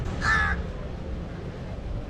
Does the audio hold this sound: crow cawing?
yes